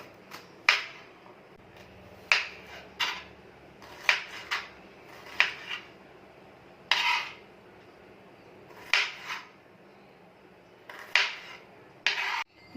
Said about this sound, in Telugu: ఉల్లిపాయ ముక్కలు కొంచెం పెద్దగానే కోసుకోవాలి.